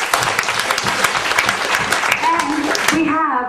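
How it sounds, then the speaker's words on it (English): Loud, lively audience applause at a business presentation, dense clapping throughout, with a voice starting to speak as it fades at the end. "give yourselves a big round of applause"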